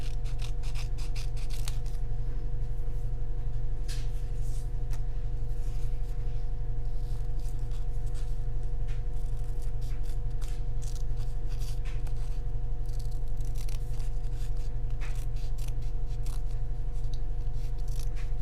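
Scissors snip through stamped paper being trimmed roughly to size for a layered Christmas card, a run of quick, close cuts over a steady low background hum.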